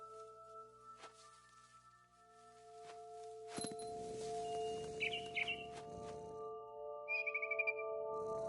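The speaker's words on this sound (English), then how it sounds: "Then I heard chirping outside my window." A barn swallow in a PS4 video game gives short chirps over a steady tonal game soundscape, brief and fairly faint, with a quick trill near the end.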